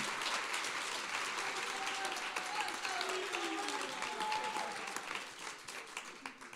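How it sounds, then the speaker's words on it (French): An audience applauds at a French conference, a dense, steady wash of clapping throughout that thins slightly toward the end, with faint voices underneath. "est-ce qu'on peut applaudir Charline quand même pour ce magnifique travail?"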